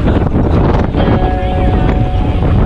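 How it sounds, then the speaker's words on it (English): Steady loud wind buffets the microphone during a crosswind bike ride in an Olympic triathlon, a continuous rushing roar with a few faint tonal whistles over the top. "we still got a crosswind. It's still blowing from our right to left"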